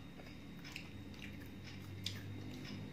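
Close, steady chewing of crunchy salted dried anchovies (ikan teri) during a meal, with soft repeated crunches and wet mastication running continuously without any talk.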